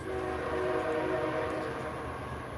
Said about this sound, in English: Sorry for the train. She lives by the train tracks